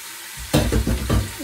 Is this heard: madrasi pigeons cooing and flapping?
no